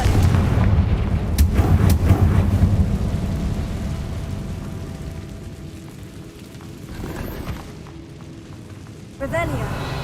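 Confringo blasting-spell explosions in the Hogwarts Legacy video game: a loud, heavy booming rumble that slowly fades, then a fresh burst near the end.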